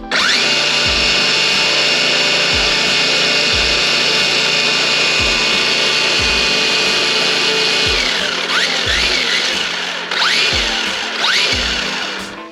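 A radio-controlled car with a brushless motor on a 7.2 V nickel metal hydride battery drives with a steady high-pitched electric whine throughout, rising and falling in pitch near the end, with regular low thumps beneath; no talk.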